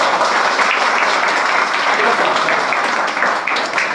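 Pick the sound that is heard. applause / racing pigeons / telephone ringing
applause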